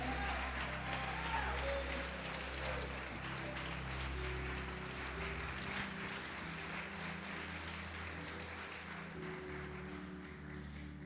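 Congregation in a church applauding during a sermon, a steady dense wash of clapping and crowd noise that holds throughout, with a low hum beneath it.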